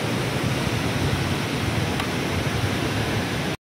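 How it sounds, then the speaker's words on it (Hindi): A fast mountain stream in Himachal Pradesh rushes in a loud, dense, unbroken roar of churning water, close and steady until it cuts off abruptly. "भाई बहुत स्पीड है इस पानी की"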